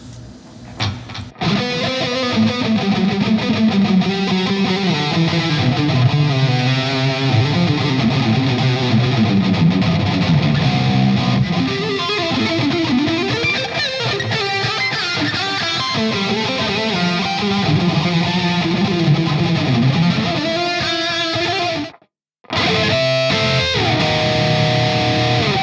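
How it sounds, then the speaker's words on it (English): A GOC Materia electric guitar played through its neck pickup with reverb and delay rings out in continuous, loud, effects-washed phrases, briefly cut by a short gap near the end. "I like the little reverb and delay on that neck."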